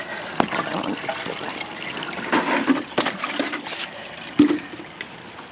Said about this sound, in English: get the water from the pond to water the plants